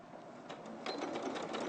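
Sewing machine stitching fabric at a quilting workstation, a steady close mechanical whir with a faint rapid stitch rhythm that grows slightly louder partway through, with no talk.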